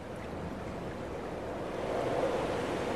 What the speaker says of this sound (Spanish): El ruido, fijaos en el ruido del agua.